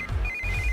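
A short electronic ringtone chirping in a steady pattern, near and clear over a low background rumble.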